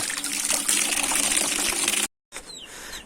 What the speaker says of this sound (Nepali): यसलाई धुनु पर्छ, पखाल्नु पर्छ।